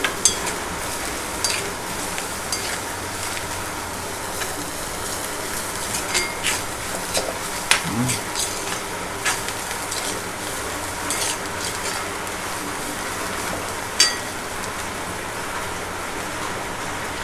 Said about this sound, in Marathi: चांगली अशी परतून घ्यायची आणि आता ही भाजी याच्यामध्ये मिळवायची